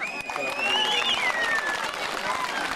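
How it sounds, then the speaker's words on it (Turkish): Audience applause at a village festival in Ayvalı, a dense continuous patter of many hands clapping outdoors, with voices calling and a whistle-like tone running over it. "Alkışımız yok mu?"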